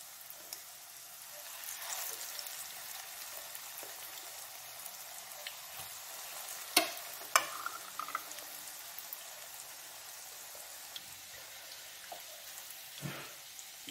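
Chicken bread rolls fry in oil in a pan with a steady, fairly quiet sizzle, broken by a few sharper crackles and pops near the middle and end, with no talking.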